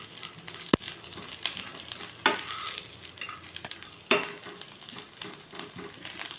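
Dry fish frying in a pan for chutney, stirred now and then: a steady close sizzle with scraping stir strokes and a few sharp clicks, no voices.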